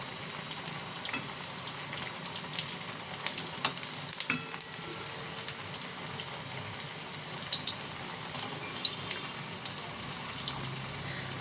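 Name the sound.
aloo bora (potato fritters) frying on low flame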